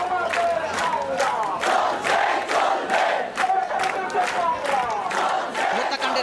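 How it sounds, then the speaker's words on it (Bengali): A large crowd of protesters, parents and children among them, chants slogans at Shaheed Minar in loud rhythmic bursts that repeat about twice a second, the massed voices close and continuous. "অভিভাবকরা তাদের সন্তানদের নিয়ে এসেছেন সেই 9 দফা দাবি বাস্তবায়নের পক্ষে যে স্লোগান সেই স্লোগান তারা দিচ্ছেন"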